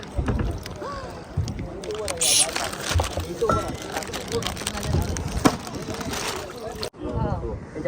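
A small boat moves along the Konkan coast with steady sloshing water and wind rush against the microphone, the noise running throughout, while several people chat and call out nearby.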